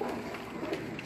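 A crossbred pigeon of the Hira Lal line coos softly on a rooftop loft in Gujranwala, a faint, low, rolling coo over quiet background.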